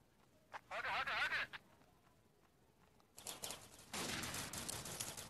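Video game gunfire comes in two bursts of rapid shots, the second longer and louder, with quieter gaps between them.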